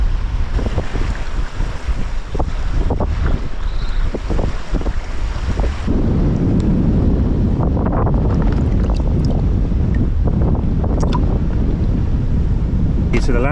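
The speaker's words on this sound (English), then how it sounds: "Oh, that wind is so strong." Strong wind buffets the microphone on a beach where sand is blowing everywhere, a loud, continuous roar with heavy gusts, while someone talks over it.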